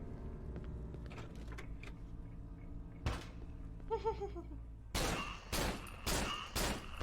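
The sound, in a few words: gunshot in the video game Cry of Fear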